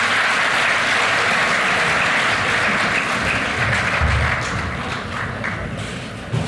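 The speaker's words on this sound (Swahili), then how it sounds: "Tuwapigie makofi hao wadosi jamani." Crowd applause for young Kenyan developers at the presidential launch of an e-citizen platform, a loud continuous clapping roar that eases slightly toward the end, with a couple of thumps.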